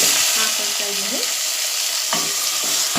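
Two tomatoes fry in a pan for a horse gram rasam, sizzling loudly and close, with a few brief scrapes of stirring over a constant frying hiss.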